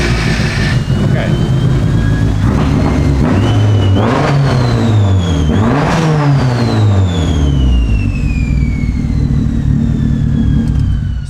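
A Mitsubishi Evo wagon engine, running rough and rumbly, revs up and down several times, its pitch sweeping upward and falling back in a few swells, loud and close before settling to a steady drone.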